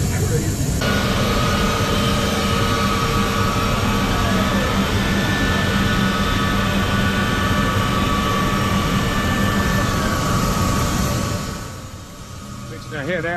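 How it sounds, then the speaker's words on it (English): A C-17 cargo plane, fully loaded with cargo, roars on takeoff from the Ross Ice Shelf in Antarctica. Its jet engines hold a loud, steady drone with a rising whine, then it eases slightly near the end. "This airplane has got a lot of cargo on it."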